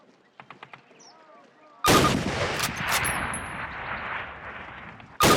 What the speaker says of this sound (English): Grab up a Springfield rifle from the table, switching it for your carbine. Turn to the left, move to the fence, and fire 2 rounds at your target.